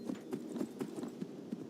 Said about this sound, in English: Is that my horse? My other horse!